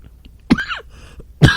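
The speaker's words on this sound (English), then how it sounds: "Somehow I've got this coughing spell all of a sudden." A man has a sudden coughing spell, giving two loud, harsh coughs close up. A short throat-clearing rasp sits between them.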